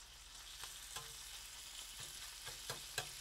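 Chorizo cooks slowly in a pan with a steady, quiet sizzle. A few soft clicks from stirring or a utensil on the pan break through now and then.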